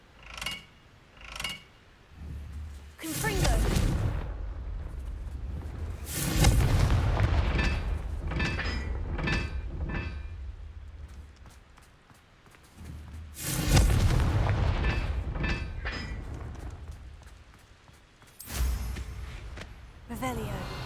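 Confringo blasting-spell explosions from Hogwarts Legacy erupt as a series of booming bursts, several heavy blasts spaced across the stretch with quieter sharp pops and clicks between them; a voice speaks over parts of it.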